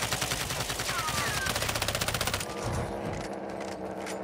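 Rapid automatic gunfire in the video game Call of Duty: Modern Warfare II (DMZ mode) rattles steadily for about two and a half seconds, then gives way to a softer, rumbling background.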